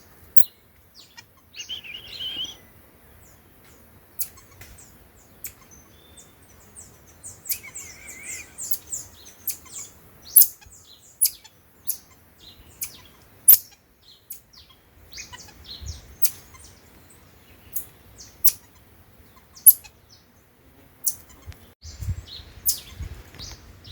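Small marmosets, a troop of six to eight, call from a jambo tree with a scatter of short, high chirps and whistles. They come in irregular bursts, fairly close, over quiet outdoor background noise.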